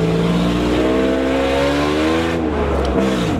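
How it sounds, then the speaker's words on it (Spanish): A 4x4 pickup truck with a broken exhaust revs loudly while climbing a rough uphill route, its engine note rising and falling steadily in a close, continuous roar with no talking. "Y yo creo que hasta el escape se quebró de la camioneta porque anda haciendo bastante ruido."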